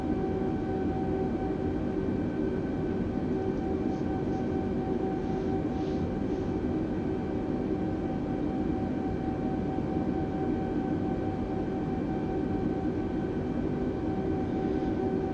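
An Airbus A320 taxiing in a flight simulator, a steady, unbroken engine drone and hum that holds constant throughout with no talk.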